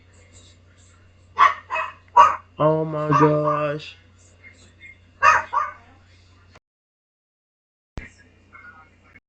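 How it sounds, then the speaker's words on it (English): A dog barking in short loud bursts, several quick barks followed by a longer whining, yelping stretch, then another bark, close by, with a person's brief exclamation in between. "Sorry about the rude dog"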